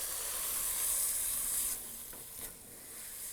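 Dried red chillies fry in hot ghee in a pan, giving a steady, close sizzle with soft hissing that eases slightly midway, with no talking.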